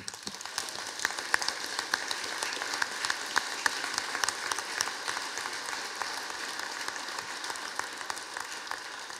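An audience at a Ljubljana ceremony for beekeepers applauds the flag bearers with a long, steady rain of fairly distant clapping that keeps an even, crackling texture for about nine seconds.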